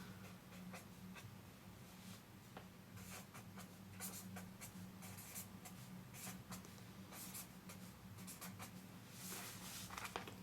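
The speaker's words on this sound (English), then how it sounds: "So if I write out the same notes starting from E" Pen or pencil writing out music notes by hand on paper, a steady soft scratching with short strokes and taps, quiet and close, over faint room noise.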